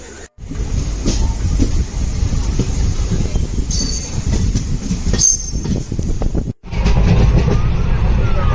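A train on the Konkan Railway rumbles loudly and continuously from inside a coach, with wheel clatter, brief squeals and shifting roar as it runs.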